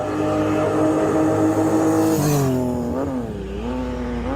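A Honda-engined vehicle in a racing video game drones with a steady, loud engine tone that rises slightly, drops, then settles at a lower pitch.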